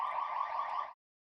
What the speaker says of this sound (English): Hold on, there's sirens.